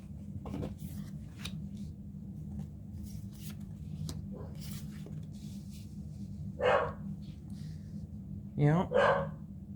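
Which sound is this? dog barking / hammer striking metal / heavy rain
dog barking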